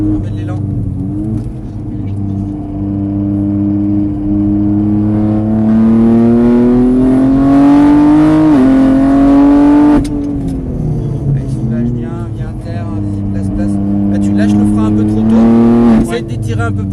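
A race car on a track roars loudly with rising pitch as it accelerates, briefly drops during gear changes, then climbs again, while a coach speaks over it throughout.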